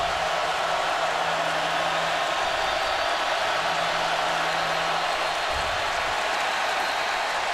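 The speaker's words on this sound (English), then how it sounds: "Crowd had grown quiet on that last LSU possession, and now they're back in it" A stadium crowd at an LSU vs Alabama college football game roars in a dense, steady wash of cheering that fills the whole stretch, with no clear voices standing out.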